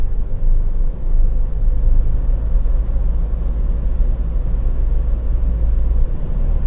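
A 2021 Ford Bronco Outer Banks on the move, captured binaurally from inside the cabin: a steady, loud low road-and-engine rumble with tire noise, continuous for the whole stretch and without talk.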